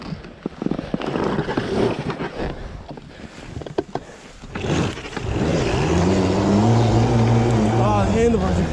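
A 5000W mini electric snow bike being ridden gives a whirring motor note that rises and pitches up in the final seconds, following crunching snow and bumping sounds, with voices talking throughout.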